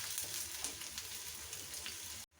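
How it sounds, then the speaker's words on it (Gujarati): Onions sizzle steadily in a hot pan for a biryani, a soft, even crackle that carries on alone before stopping suddenly. "તો આપણે ડુંગળીને થોડી ફ્રાય કરવાની છે"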